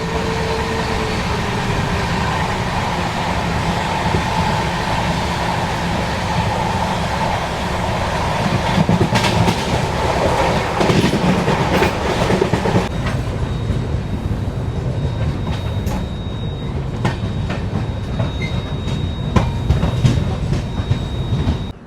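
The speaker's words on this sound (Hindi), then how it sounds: "लखनऊ निकली है अभी अपनी ट्रेन" Kota Patna Express running on the rails toward Lucknow, a continuous loud rumble with rhythmic clickety-clack of wheels over joints and occasional rattles, heard from inside the moving train.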